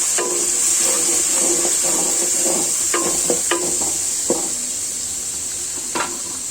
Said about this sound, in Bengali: আমি এখন ডালটা ফোড়ন দিব এখানে চুলায় পেঁয়াজ আদা রসুন এগুলো দিয়েছি